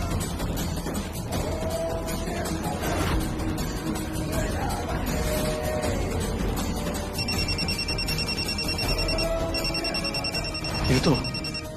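A telephone rings in a tense hospital scene of the Hindi TV drama Qurbaan Hua, its repeated electronic trill pulsing clearly in two bursts near the end over a busy background of music and voices.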